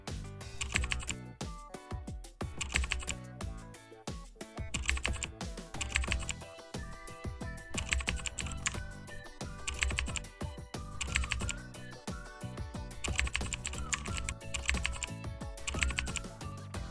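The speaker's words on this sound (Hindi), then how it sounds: "तो कुछ नेम मैंने यहाँ पे टाइप किया" Names typed on a computer keyboard while working in Excel: a steady, busy run of key clicks and taps that carries on throughout, over a tonal musical backdrop, with no speech.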